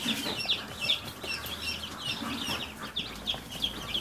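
Newly hatched chicks peep in a new brooder, with many high, shrill repeated cheeps overlapping close by over a low background rumble, and no talking.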